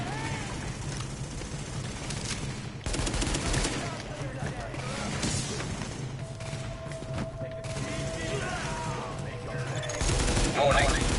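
Rapid bursts of gunfire from the video game The Division blend into dense background game sound, with fuller volleys near three seconds and again near ten; a steady tone runs through the middle.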